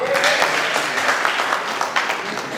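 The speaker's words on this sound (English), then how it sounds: "Can we clap for her?" Church audience applauding together at a field inauguration gathering, a brief burst of clapping, fairly close and dense, with no speech over it.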